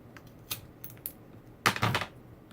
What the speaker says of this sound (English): So I'm going to turn this around, and we're just going to cut.